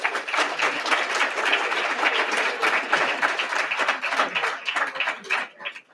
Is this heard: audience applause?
yes